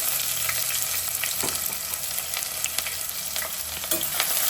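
Onions and kasuri methi frying in a pan for chicken curry, a dense, close sizzle with bursts of spatula scraping and stirring, no voices.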